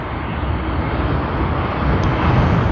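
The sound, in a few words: Boeing 777 airliner at Sydney Airport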